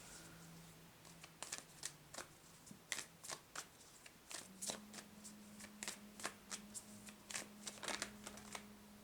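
Whispers of Love oracle cards being shuffled by hand, a steady run of crisp papery riffles and snaps, close and fairly quiet, with a faint low hum underneath and no talking.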